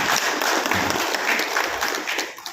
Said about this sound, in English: So I think we should clap.